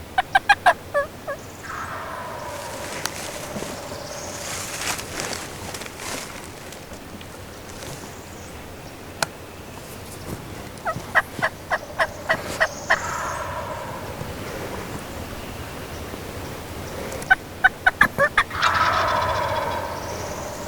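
Wild turkey gobblers sound off during a spring hunt. Sharp rattling gobbles come in three separate bursts near the start, middle and end, moderately distant, with quieter outdoor ambience between.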